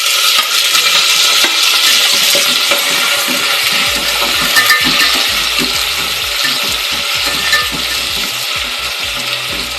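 Chopped tomato frying in oil in a pan for mushroom biryani, a steady dense sizzle with clinking stirring scrapes throughout, close and loud, no talking.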